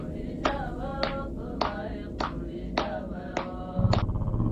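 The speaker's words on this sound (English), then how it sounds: "4 women sat on the floor, each clapping their hands and singing a traditional Kohistani song" Women seated on the floor in the Kohistan region of Pakistan clap their hands in a steady rhythm, seven sharp claps spaced about half a second apart, moderately close, with a low murmur of voices and room sound underneath.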